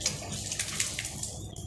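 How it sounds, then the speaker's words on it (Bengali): Ducks bathe in water, splashing and churning it in a continuous, busy wash of close, fairly loud splashes with no break. "আমাদের হাঁসগুলো অনেক দিন পর পানি পেয়ে যে গোসলটা করছে দেখার মতো"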